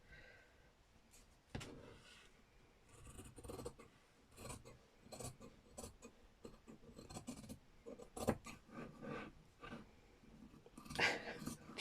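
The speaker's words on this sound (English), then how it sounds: "I just do it with scissors, might be easier." Quiet snipping and rustling of scissors cutting, with irregular small clicks and rasps spread across the stretch, close by.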